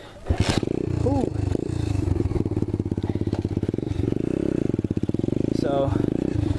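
An Apollo 125cc dirt bike engine revs hard and steadily during a wheelie, with a loud, rapid buzzing pulse close by and the pitch rising and falling, while a voice briefly cuts in.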